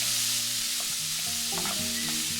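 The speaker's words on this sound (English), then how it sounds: "Then add onion, capsicum and carrot, all minced into very tiny pieces." Minced garlic, onion, capsicum and carrot frying in a pan, a steady loud sizzle throughout with a spatula stirring and scraping now and then.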